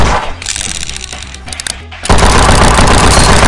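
Gunshots in the mobile shooter game Killstreak.tv: loud rapid-fire bursts, first clipped and intermittent, then a sustained roaring stream of shots.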